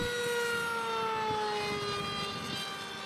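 A RocHobby Swift high-speed delta wing RC racer plane flies past, its electric motor giving a continuous whining drone whose pitch slowly falls as it moves away, loud and steady with no talk.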